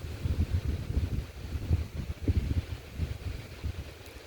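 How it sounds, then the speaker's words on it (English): Wind gusts across an open outdoor farmyard, roaring as a low, buffeting rumble in rising and falling surges and heard alone, with no one speaking. "There goes the wind"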